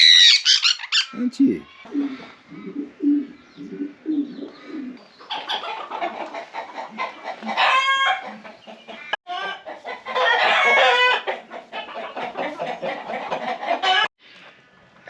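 Loud birds squawk and cluck in harsh bursts close by, with a person speaking softly among the calls.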